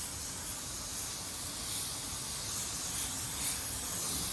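A spray gun lays a second coverage coat of paint on a car quarter panel inside a paint booth, giving a continuous, even hiss of atomized spray that stays steady throughout.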